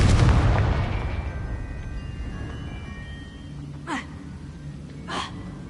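A Confringo fire spell in Hogwarts Legacy bursts with a loud, booming blast at the start that decays into a rumbling tail, followed by two brief whooshing flares.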